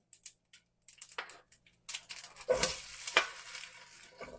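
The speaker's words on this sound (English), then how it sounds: "So I'm starting to hear that pop sound, and they're jumping off the frying pan now." Mustard seeds crackle and pop in hot oil in a frying pan, scattered sharp snaps at first, then a denser sizzling burst close up.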